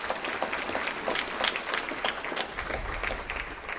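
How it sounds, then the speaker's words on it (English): An audience at a city's state of the city address applauding, a dense, steady wash of many hands clapping that lasts the whole stretch without a break. "Let's give them all a round of applause."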